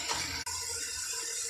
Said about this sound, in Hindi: अब इसके अंदर मैं डालने लगी हूँ पानी क्योंकि मसाला जो है ऑलमोस्ट हमारा डन हो चुका है